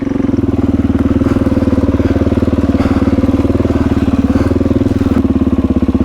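Motorbike climbing a steep dirt trail, a loud, steady, close engine drone with a fast pulsing chug and faint clatter throughout.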